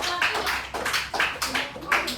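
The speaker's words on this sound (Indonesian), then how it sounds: "Oke, kasih tepuk tangan untuk kelompok 3." A classroom group claps for group 3 in short, uneven bursts of hand clapping mixed with overlapping voices, several loud peaks in a brief, lively round.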